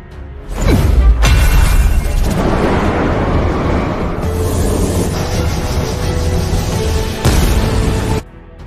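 A loud explosion from dark matter colliding with a dark force opens with a sharp whooshing impact and becomes a sustained, heavy rumbling roar. A second hit comes near the end, just before the sound cuts off abruptly.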